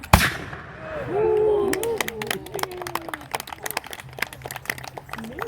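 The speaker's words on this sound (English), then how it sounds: "75 caliber blunderbuss. Fire in the hole!" A .75 caliber flintlock blunderbuss fires once with a sharp, loud near blast at the start, followed by a long echoing rumble, scattered crackles and a murmuring crowd outdoors.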